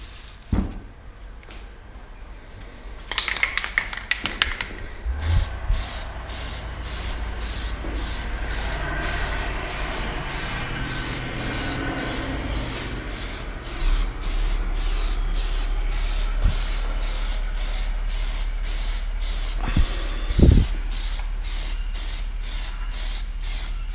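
Plasti Dip is sprayed from an aerosol can onto a MINI mirror cap in rapid, repeated short bursts, a close, loud, pulsing hiss with a few handling knocks between passes.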